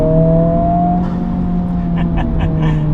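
Sports car with an aftermarket air intake, a loud close engine drone with steady low harmonics and a slight rising pitch, as if cruising or gently accelerating, with no voices.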